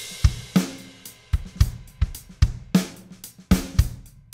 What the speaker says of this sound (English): I have a quick little four-bar drum loop that sounds pretty good